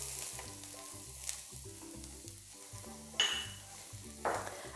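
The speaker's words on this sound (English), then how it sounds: "into here I'm going to add in 6 cloves of garlic that I've chopped nice and fine" Six cloves of finely chopped garlic drop into smoking-hot oil in a pan and sizzle steadily, with a couple of sharper bursts, under louder background music.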